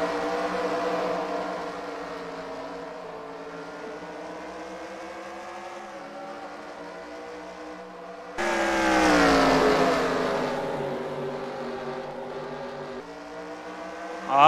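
A pack of race cars roaring off at the green flag of a 60-lap feature at Knoxville Raceway, a sustained engine drone rising and swelling sharply as the field passes close by.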